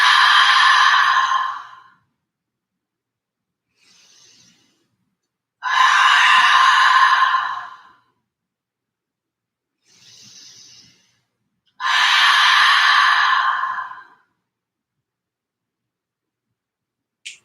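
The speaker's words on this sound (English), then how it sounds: "Letting them be open mouth exhales each time." Three loud open-mouth exhales during a yoga breathing practice, each a long breathy sigh of about two seconds, separated by quiet inhales and silence.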